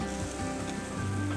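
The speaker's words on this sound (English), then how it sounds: "So that cabbage is just sizzling away in the pan there." Cabbage sprayed with olive oil sizzles in a pan at an outdoor cooking spot at a motorhome show, giving a steady crackling hiss with a low background hum.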